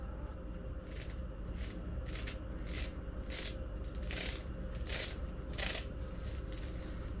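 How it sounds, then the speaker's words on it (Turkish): A knife chops parsley, stems included, on a cutting board, about nine quick, evenly spaced strokes over a steady low hum. "Şimdi maydanozlarımı doğrayacağım."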